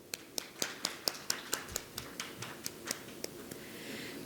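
Clapping at a panel discussion on AI in lending and recovery, heard as a run of crisp, evenly spaced claps in a steady rhythm that gradually softens over a low background hum.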